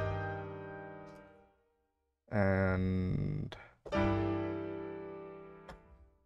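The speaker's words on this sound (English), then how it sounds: "it has chromatic major chords that it does." Orchestral music inspired by Malenia from Elden Ring, sounding as rich sustained major chords that shift upward by semitones, swelling loudly in separate blocks after a fading opening chord; a voice briefly speaks.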